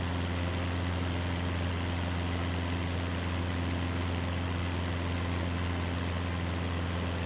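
A light aircraft engine drones steadily at low revs in a flight simulator game on a bush trip over Swiss lakes, a constant hum with no change in pitch and no talk.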